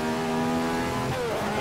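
A Ferrari 312/67 racing engine in Assetto Corsa revs hard under acceleration, a loud steady tonal howl climbing in pitch near the end with no talking over it.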